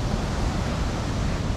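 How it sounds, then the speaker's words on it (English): Big Atlantic ocean waves break on a beach in northern Portugal, a steady, loud, broadband roar of surf with no voices. "Let's see if we can see some of those big waves again."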